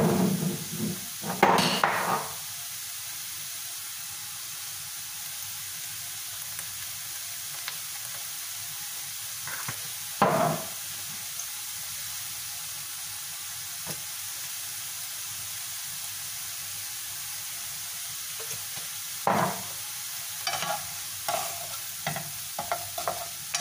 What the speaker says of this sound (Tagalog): Haluin lang nating mabuti hanggang sa maluto ang ating mushroom.